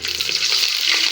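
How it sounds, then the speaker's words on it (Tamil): Mustard seeds, fennel seeds and chana dal frying in hot oil for poori masala, a loud, dense sizzle with faint crackling and popping throughout a short burst. "அதுக்கு எண்ணெய் ஊற்றிட்டு கடுகு, சோம்பு, கடலைப்பருப்பு எல்லாத்தையும் போட்டிருக்கோம்."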